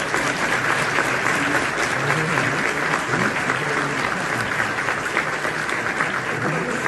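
Steady, loud applause from an audience at a live interview event, dense and continuous for the whole stretch with no pauses.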